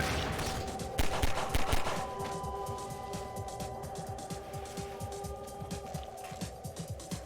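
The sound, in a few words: machine gun firing in the video game Half-Life 2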